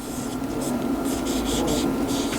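Pen or pencil writing on paper during a grade 1 English lesson, a soft, close scratching made of short repeated strokes that continues for a couple of seconds with faint room hum underneath.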